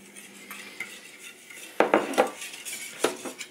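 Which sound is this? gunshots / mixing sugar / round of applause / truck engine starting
mixing sugar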